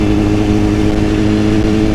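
Steady, close engine drone from a 2010 BMW S1000RR sportbike, a low humming tone holding even and constant for two seconds with no talking.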